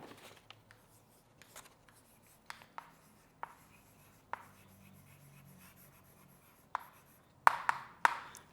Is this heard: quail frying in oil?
no